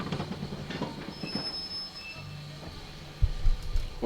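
Metro train in the video game Mimesis rumbling along the rails, with wheel squeal and a steady low rolling drone that swells into heavier clunks near the end.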